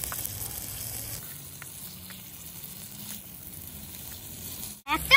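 Chicken and egg mixture with cumin, coriander powder and chopped chilli sizzles steadily in a frying pan while being stirred, a soft continuous fry that stays low and close, ending in a brief clatter.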